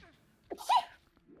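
A single sharp sneeze bursts out indoors, short and fairly close, with a quiet room around it.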